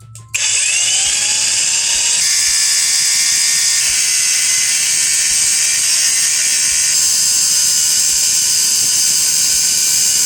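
An angle grinder cuts across a metal Taffware X-200 TV bracket along a marked line, giving a loud, harsh, steady grinding whine that starts abruptly and runs nonstop at close range.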